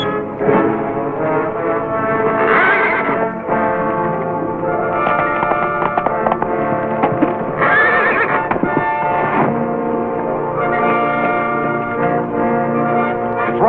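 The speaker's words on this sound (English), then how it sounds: "Grab Red's horse and ride him through the shack" Horses neigh loudly several times in a 1940 Western serial, long shrill whinnies with echo, separated by stretches of hoofbeats and clopping, with no talking.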